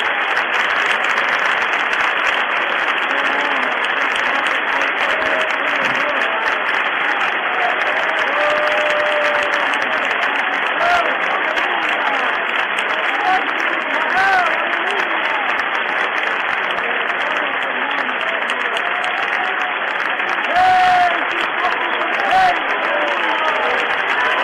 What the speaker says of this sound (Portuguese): um lindo e demorado aplauso do teu povo